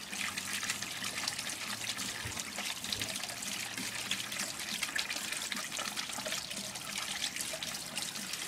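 Water streams steadily through a homemade radial flow filter into a bath, a continuous trickling and splashing flow that stays close and even throughout, with no voices.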